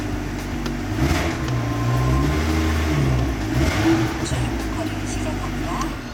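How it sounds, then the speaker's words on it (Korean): A BMW X4 M40i engine rumbles and revs with a deep, steady exhaust roar at startup, close by, sustained throughout with slight swells in intensity. "시동을 켰을 때 느껴지는 배기음 웅장하죠."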